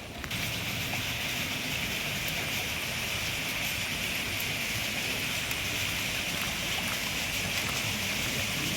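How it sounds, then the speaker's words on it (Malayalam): Floodwater rushing downstream in the swollen Chalakudy river at Koodappuzha, a steady broadband roar that stays loud and unbroken throughout, with no voices. "തുമ്പൂർ ഈ ഭാഗത്തുനിന്ന് ഒഴുകി വരുന്ന വെള്ളമാണ് കേട്ടോ അത്."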